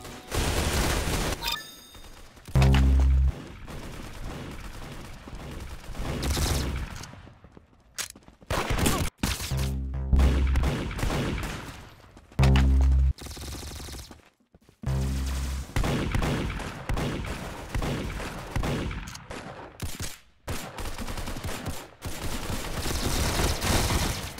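Rapid bursts of video game gunfire in Roblox Arsenal, automatic weapon fusillades and single shots, loud and close in repeated bursts separated by short silent gaps.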